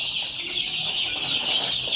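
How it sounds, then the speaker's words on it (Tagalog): Newly hatched chicks peep continuously, a dense, high, bright chorus of many small birds packed close together, steady and fairly loud, with no talk. "ang ating mga sisiw"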